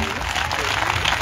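Church congregation clapping hands hard together as an offering of praise during a concert, a loud, dense, continuous wash of applause with a crowd murmuring beneath.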